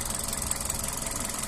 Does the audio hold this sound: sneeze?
no